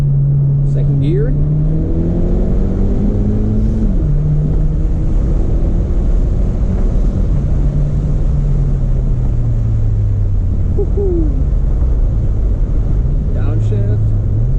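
A modified 10th-gen Honda Civic Si with a loud turbo engine pulls hard through the gears from inside the car, its steady droning roar rising in pitch, dropping at shifts and climbing again, loud and continuous throughout.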